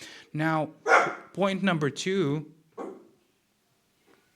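A dog barks several times close by, its sharp yaps overlapping a voice talking over them before things go quiet.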